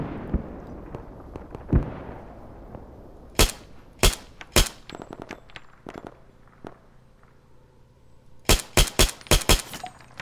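M4A1 Block II SOPMOD rifle with a reflex sight fired in Arma 3 RHS King of the Hill: three sharp single shots, then a pause, then a fast string of five or six loud cracks over a low background rumble.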